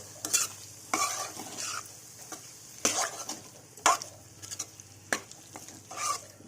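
Taro root being stirred into tomato masala gravy in a pan, with soft sizzling under repeated scraping strokes of a spoon against the pot, close up and steady, about a dozen stirring scrapes.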